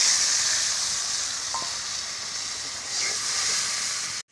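A paste of turmeric, salt, cumin, ginger and chili sizzles and hisses in a hot pan with fried tomato, a steady close frying sound with a couple of light clinks, then an abrupt cut.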